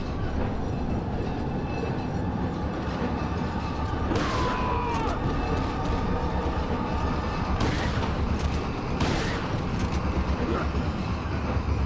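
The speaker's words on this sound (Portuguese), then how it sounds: "Vamos tentar dar mais um tiro de shotgun." Three sharp shotgun blasts in the video game Resident Evil 4, spaced a few seconds apart, cutting through a constant low rumbling background.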